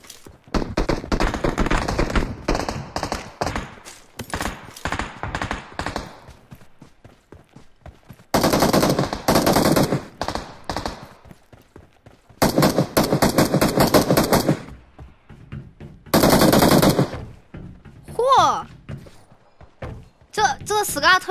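SCAR assault rifle fire in the mobile battle-royale game PUBG Mobile: several loud bursts of rapid automatic shots separated by pauses, with a player talking in between.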